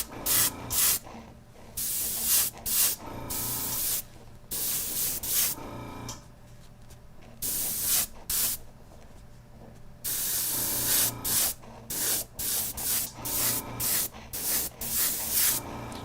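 Spray can lays white paint onto a Jordan 3 sneaker midsole in repeated hissing bursts of varied length separated by short pauses, close and clear, with no talk.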